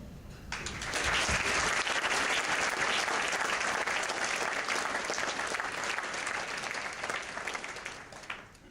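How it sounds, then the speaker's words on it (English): Sustained audience applause at a Year 12 graduation ceremony for Carroll College, a dense wash of many hands clapping that starts abruptly, stays loud and steady for several seconds, then slowly thins toward the end. "give our teachers a round of applause for all the work over the years"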